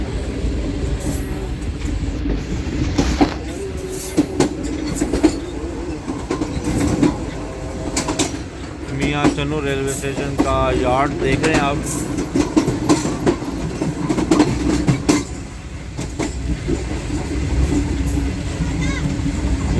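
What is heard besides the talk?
train changing tracks and lines, clickety-clack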